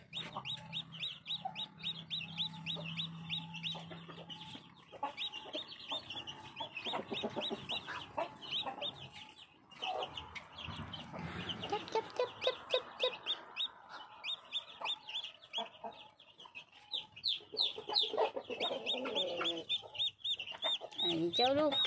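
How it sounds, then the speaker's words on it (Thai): Newly hatched black chicks peep in a dense, continuous chorus of high chirps close by, with soft clucking from older fowl mixed in and a brief low hum near the start. "เจ้าลูกไก่ดำ"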